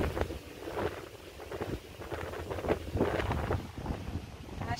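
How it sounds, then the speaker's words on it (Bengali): Wind blows in gusty, rumbling surges off the Ganges during rain, buffeting the microphone loudly and continuously with no talk. "তার সাথে গঙ্গার হাওয়া।"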